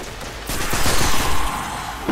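Gunfire from the video game Destiny on PS4, a quick burst of rapid shots with a dense, loud crackle that swells and fades over about two seconds, with no talking.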